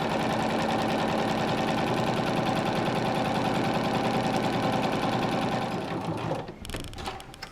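A sewing machine runs steadily, stitching extra reinforcement lines on a fabric channel for a DIY toilet hammock. It is a close, continuous whir that stops near the end and is followed by brief handling noises.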